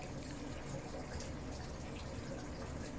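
Fresh water runs into aquarium tanks through a centralized water-change system, a faint, steady hiss of filling liquid with no pauses.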